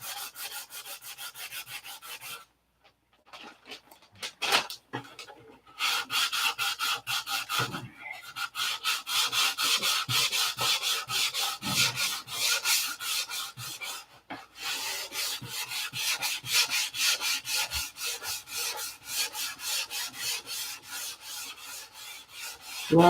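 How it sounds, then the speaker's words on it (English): Continuous rasping sandpaper strokes over primer on a model aircraft fuselage, leveling the surface; steady close rubbing with a brief pause early on, then sustained back-and-forth scrubbing, alone without talk. "We'll just go ahead and use primer and then sand it back off."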